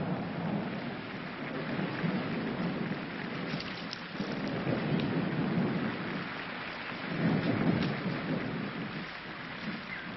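Steady rain pours over a forest while low rumbles of thunder roll through, swelling twice into heavier surges; a dense, enveloping wash with no voices.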